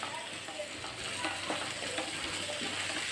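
Mutton varattu fries in a pan for Kerala-style ghee rice, giving a steady, moderately quiet sizzle and crackle with occasional stirring scrapes, and no talk over it.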